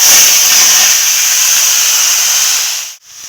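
Vegetables dropped into hot oil tempered with chili and black cumin for a Bengali dish, a loud broad sizzle that holds steady, then cuts out sharply near the end.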